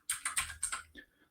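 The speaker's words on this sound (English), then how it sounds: "We can start typing here." Quick bursts of typing on a computer keyboard, about six close, crisp keystrokes in a fast run that trail off into a few lighter taps, with no one speaking.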